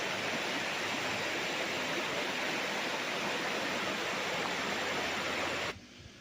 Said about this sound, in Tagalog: Ang agos ng tubig pag ganun mga kaprops, pag ganun siya.